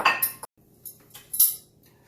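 Utensils clink and scrape against an Instant Pot while cooked meat is shredded, giving a few quick metallic taps and scrapes at close range, with no talk.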